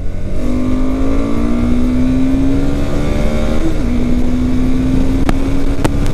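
A close, loud KTM 390 Adventure motorcycle engine revs steadily upward in pitch for several seconds, a brief dip midway, then continues climbing, with no talk.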